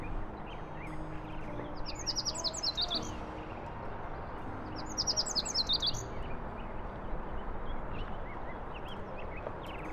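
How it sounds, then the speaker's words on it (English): Summer birds singing beside a river in Salt Lake City, with two bursts of high chirping song over steady broadband river rush. "Early in the summer, you can hear songs echoing around the river."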